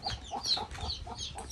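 A mother hen clucks in a quick series of short, close calls, with faint chick peeps mixed in against a quiet farmyard background.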